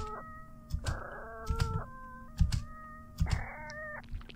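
Cat in the Kissa horror video game meows repeatedly, several drawn-out, eerie calls with distinct pitch steps, heard close and clear over low thumps and background hum, with no talk.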